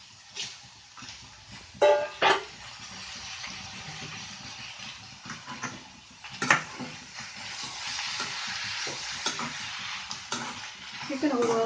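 Boneless chicken sautéing with onions in a pan for pepper chicken fry, a soft continuous sizzle with intermittent scraping stirs and a few louder clanks of the spoon against the pan.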